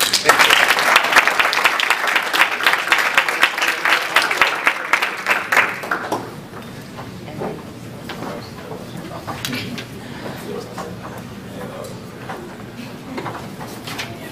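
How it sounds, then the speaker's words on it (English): An indoor audience claps loudly for about six seconds, then the applause drops to scattered light clapping and shuffling sounds. "So give him another hand clap."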